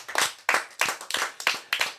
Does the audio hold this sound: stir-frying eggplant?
no